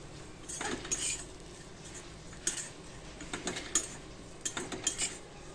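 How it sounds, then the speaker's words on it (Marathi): Grated coconut dry-roasting in a pan while being stirred, giving intermittent scraping and light metallic clinks of a utensil against the pan, close and fairly quiet, with no talking. "हे बघा, हे खोबरं मी आता चांगलं भाजून घेते."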